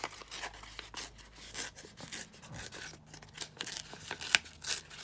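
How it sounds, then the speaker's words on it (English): Paper being torn along an edge for a decorated journal cover, heard as a series of close, crisp ripping and crinkling strokes, each short and uneven, with small pauses between them. "let's just tear this down on this edge"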